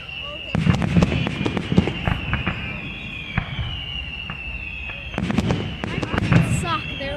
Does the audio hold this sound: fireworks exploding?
yes